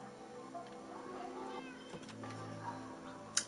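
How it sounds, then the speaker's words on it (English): Cats meow faintly in the Minecraft video game, a few soft overlapping mewing calls mixed into quiet background game sound, with one sharper sound near the end. "those cats are getting me pissed off"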